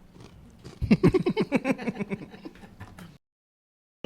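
Loud, close chewing and biting with a quick series of wet, crunchy mouth sounds over about two seconds, fading out and then dropping into silence.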